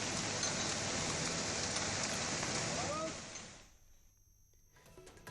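Heavy monsoon rain pours steadily in Panchkula during flooding, a dense continuous hiss for about three seconds before dropping away to a much quieter background.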